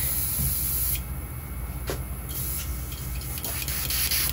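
An airbrush sprays white paint onto a trout fishing lure, a steady, close hiss of air that runs continuously with slight shifts in tone and no speech.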